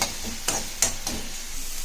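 Cauliflower gravy ingredients with salt and green chillies are sautéed in a pan, giving a soft steady sizzle with a few sharp spatula scrapes and clinks, close and alone without talk.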